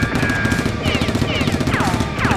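Rapid bursts of toy foam-dart blaster fire during a mock gunfight in an abandoned neighborhood, rattling steadily and close with quick repeated shots over a busy, noisy background.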